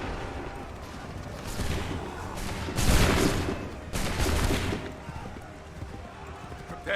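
Soldiers fire a gun volley on command in Assassin's Creed 3 Remastered: bursts of massed musket fire come in two main waves around three and four seconds, mid-distance, with voices calling over the battle noise.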